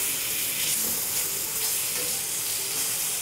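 Steak sizzling in a hot pan, a steady loud hiss and crackle of frying meat that holds evenly throughout with no talking.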